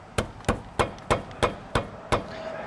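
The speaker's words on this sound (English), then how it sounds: "May have to use a hammer." Hammer striking a stuck shock mount on a 2018 Jeep Wrangler JL during a lift install: seven sharp metallic whacks at a steady, even pace, close and loud.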